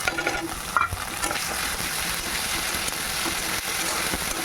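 Ginger-garlic paste fries and sizzles with onions in a pan, a dense continuous hiss punctuated by scraping stirs near the start.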